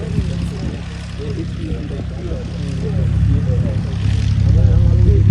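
Steady engine drone from two small propeller airplanes, growing louder toward the end, with voices talking over the hum.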